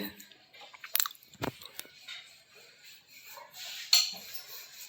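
Close chewing and crunching while someone eats freshly made poha at home, with a few sharp bites and faint dish and cutlery clinks amid quiet room noise.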